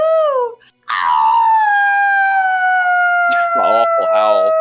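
A person imitates a howl with a long, loud, wavering vocal wail held for several seconds, preceded by a short yelp and followed by brief spoken syllables.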